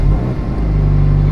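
A rebuilt Toyota GT86 engine turns over and starts, settling into a loud, low, steady idle rumble close by.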